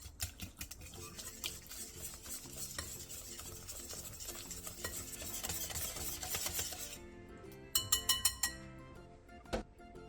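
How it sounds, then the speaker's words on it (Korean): Stirring pancake batter of frying mix, egg, water, minced garlic and salt in a bowl with added ingredients, a steady wet scraping and rasping through most of the stretch, then sparser clicks and knocks near the end. "그 다음 준비한 재료들을 전부 넣고 살살 뒤적여가며 반죽에 섞어주세요."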